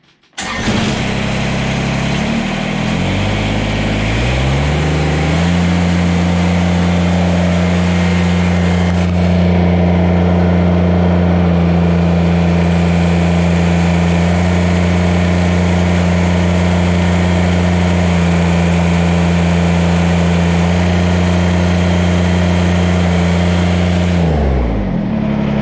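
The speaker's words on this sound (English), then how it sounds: "I'm going to bring the tractor to full revs." A Kubota BX compact tractor engine climbs from a low start to full revs and holds a steady, loud, droning roar for about twenty seconds before dropping back at the end.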